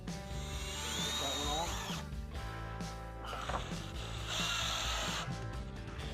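A power drill with a 1-inch bit bores through a plastic fishing kayak hull to mount a seat storage unit, whining steadily and up close with brief pauses between bursts.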